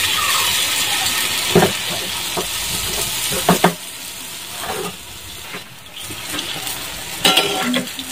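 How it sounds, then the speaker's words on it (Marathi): Sweet bhaji fritters fry in hot oil with a steady close sizzle, broken by several sharp clinks and stirring scrapes of a utensil against the pan. "तळून घेऊ आपण गोड भजी।"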